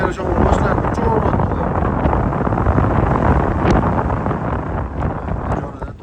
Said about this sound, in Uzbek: Voy, yana shamol boshlandi.